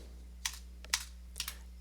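Three quiet, sharp keystrokes on a computer keyboard while typing code, spaced about half a second apart over a low electrical hum.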